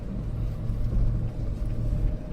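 A Lexus off-road vehicle crawls in low manual mode with all three differentials locked. Its engine gives a deep, steady rumble with slight surges, close by and without talk.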